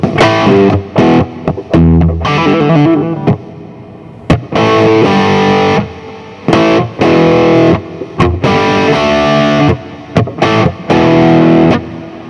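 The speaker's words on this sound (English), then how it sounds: "A lot of reverb on that one." Distorted electric guitar riffs through a Plexi amp setting with reverb at 15% wet, in bursts with short pauses, loud and close, washed in reverb that lingers between phrases.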